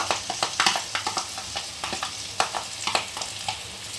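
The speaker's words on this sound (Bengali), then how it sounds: "তো বন্ধুরা আমি এরপরে সসটা দিয়ে দিচ্ছি 5 চামচের মতো, টমেটো সসটা।" Soyabean chilli sizzling in a pan as about five spoonfuls of tomato sauce go in, with steady frying crackle and a series of sharp stirring scrapes and clinks, close and fairly loud, no voices.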